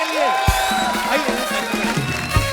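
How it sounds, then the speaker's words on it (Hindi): Studio audience at a Hindi comedy talk show applauding and cheering as Karan Singh Grover and Bipasha Basu arrive, a dense sustained wash of clapping and crowd noise with music underneath. "जोरदार तालियां करण और विपाशा के लिए"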